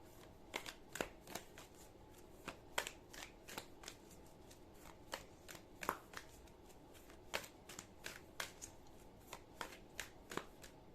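Soft, repeated riffling and snapping of cards being shuffled, in quick uneven bursts against quiet background hiss, with no talking.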